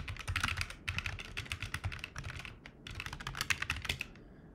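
Rapid typing of a for loop on a Glove80 split keyboard, dense close bursts of key clicks in quick runs with a brief pause between flurries.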